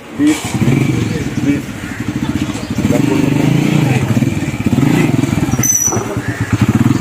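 Around nine motorcycles rumble at a rural gathering spot in Bajwat near Sialkot, their low engine chugging steady and close throughout while people talk over it.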